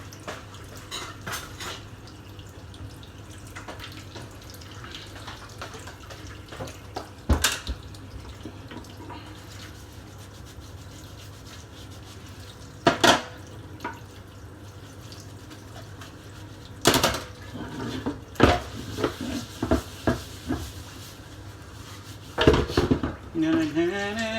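Dishes and pans being washed in water at a home kitchen sink, with scattered clinks and clatters of pots and cutlery over a steady background of running water, close by and intermittent.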